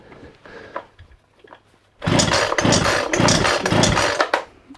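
Four or so loud, rasping pulls on the recoil starter cord of a Mountfield MC3720 chainsaw, each a burst of whirring friction, close up, following a quieter lead-in of handling noises.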